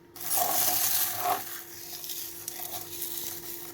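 Dried mint and lemon are stirred into a meat and chickpea okra stew in a pan. Close, sizzling scrapes are loudest for the first second and a half, then settle into quieter stirring with a few light clinks.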